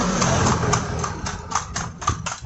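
Horse hooves of a horse-drawn calesa clip-clop in Vigan in a quick, irregular rhythm, moderately close over steady street and wheel noise.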